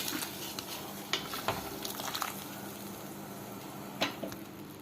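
Pulumcurry, a Kerala-style curry, bubbles and sizzles in a pan on the stove, a continuous close simmer broken by a few sharp stirring scrapes.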